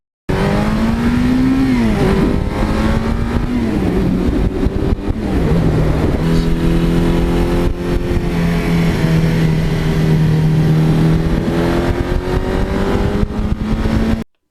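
A one-owner 1982 Suzuki GS1100E motorcycle with 80,000 miles runs close and loud, its engine droning steadily with rising and falling revs and wind rush over the whole stretch, no talk.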